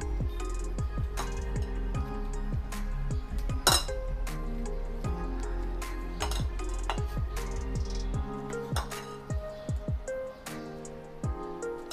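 A metal spoon scrapes and clinks against oiled metal idli plates as rava idli batter is spooned in, a busy run of bright taps and rattles close by with no talk.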